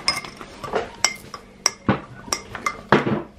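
Spoon stirring flour into a mixture in a bowl, a quick run of sharp clinks and scrapes against the bowl in an uneven rhythm, close and fairly loud, with no talking.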